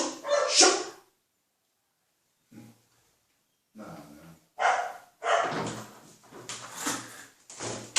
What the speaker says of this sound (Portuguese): Cachorrada enche o saco, né?